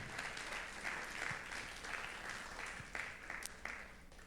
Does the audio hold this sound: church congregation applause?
yes